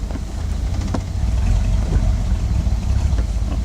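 C3 Corvette put in gear and rolling on a gentle hill, a low, steady engine rumble close by with a few faint clicks and knocks over it, building slightly as it moves.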